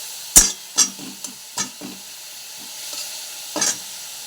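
Potatoes fry with salt in a pan, a soft sizzle broken by several distinct scraping strokes of a spatula stirring, close and fairly loud with no talking.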